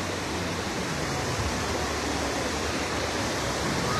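Heavy spillover water rushes steadily down the spillway of the Araras reservoir dam toward the Acaraú river, a dense, unbroken roar that holds constant and loud throughout.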